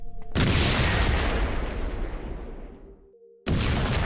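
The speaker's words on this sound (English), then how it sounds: "another big secondary explosion" A grenade explodes in the video game Cataclysm DDA with a loud, close boom whose rumbling roar decays over about three seconds. After a brief gap, a second blast bursts in abruptly.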